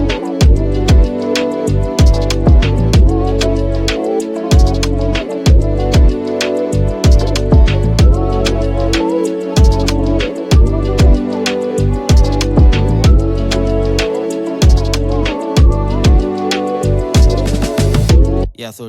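Strings carry the melody over an Afro Swing beat built in FL Studio, with a bouncing rhythmic pattern of punchy low drum hits repeating steadily underneath, loud and without talk.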